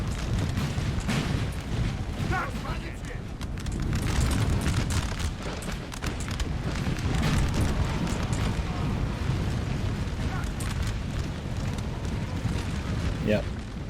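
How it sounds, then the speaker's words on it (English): Artillery fire in Napoleon: Total War, a Napoleonic-era battle, booming as repeated cannon shots rumble through a dense, continuous battlefield din, with a voice talking over the barrage. "I think I'm targeting the Polska's lines here with my artillery."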